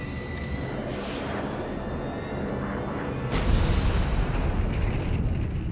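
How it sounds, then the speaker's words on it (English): A missile hits a SAM radar in a broad rumbling explosion, a sustained roar that swells and deepens partway through, loud and dense without clear separate blasts. "When our missile hit the SAM radar, the missile no longer had guidance"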